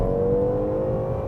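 A Hyundai Grandeur IG sedan with a 3.0L engine accelerating, heard as a steady, loud engine drone with a held tonal note, close and continuous with no talk.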